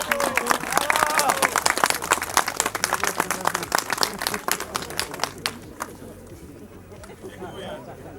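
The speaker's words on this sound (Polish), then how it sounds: "Panowie Szczek, wielkie brawa za ten kilometr!" A crowd at a feeder fishing competition bursts into clapping that starts loud and dense, then thins out and fades into outdoor background murmur after several seconds.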